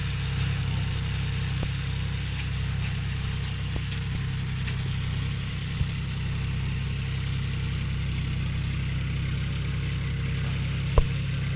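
John Deere 5105 tractor pulling a 9-point spring cultivator across farmland, a steady low diesel drone with continuous rumble and a few faint clanks, no talk.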